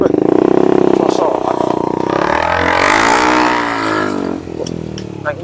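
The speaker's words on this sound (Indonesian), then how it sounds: "Naik motornya gila bener cewek" A motorcycle engine drones loudly and steadily, rising and shifting in pitch as it rides past, with people talking over it throughout.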